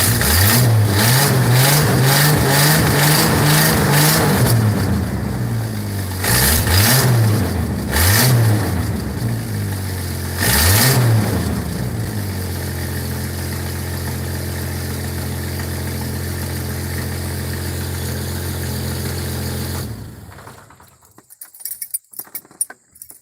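A 1970s hot rod's engine fires up and revs hard, several loud rising and falling blips, then settles into a steady rumbling idle close by before cutting off near the end, with no talk.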